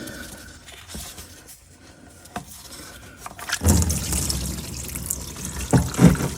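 Engine oil from a 2018 Ford F-150 2.7L drains from the oil pan and splashes onto the front sway bar, starting as a faint trickle and turning into a louder, steady splattering pour partway through, close by.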